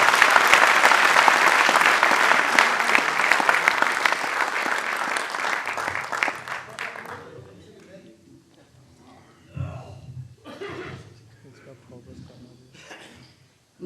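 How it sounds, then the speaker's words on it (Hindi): An audience at a Hindi comedy stage show applauds loudly in a dense, sustained burst of clapping that fades after about seven seconds, giving way to a voice speaking. "आइए एक बार मिलकर तालियां बजाएं"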